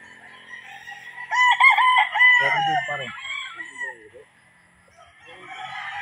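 Red Kelso gamefowl battle stags crowing at a game farm in Tanay, Rizal, with two or three loud, overlapping cock-a-doodle-doo calls close by, trailing into clucks and a quieter crow at the end.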